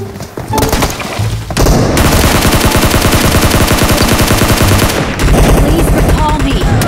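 Gunfire in the PUBG Mobile video game, loud rapid bursts of automatic weapon fire that merge into a sustained dense rattle, with short gaps between volleys and a second long burst near the end.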